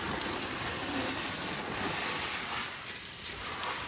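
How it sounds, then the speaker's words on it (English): A handheld water sprayer rinses soap off a plastic Step2 Pump & Splash water table, a constant close, broad hiss of spray that runs unbroken for nearly four seconds. "I can take my water sprayer and then start spraying it down so all the soap is going down and rinsing out"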